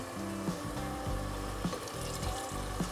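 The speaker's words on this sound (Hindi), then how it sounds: "मैं थोड़ा सा पानी ऐड करूँगी इसमें" Water pours steadily into a hot cooking pot of chicken and onion masala, giving a continuous close sizzle and splash with a few small clinks and bubbles, and no voices.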